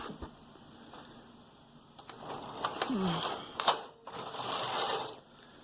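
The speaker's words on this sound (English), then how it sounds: "Now I'm releasing it from the bracket on the left, bringing it over to the right hand bracket." Knitting machine carriage pushed by hand from the left bracket across to the right bracket, a run of close mechanical clicks, ratcheting and sliding rattles building to a louder rush near the end, with no talk.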